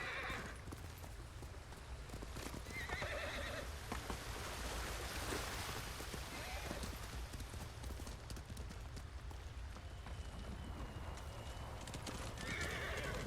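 Horse in the samurai action game Ghost of Tsushima, neighing and whinnying over a busy bed of clip-clopping hooves and ambient surf-like wash, fairly close and continuous throughout.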